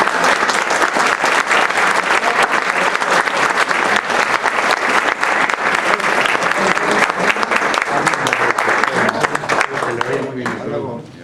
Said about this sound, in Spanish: nos pueden ayudar con un aplauso para Margarita.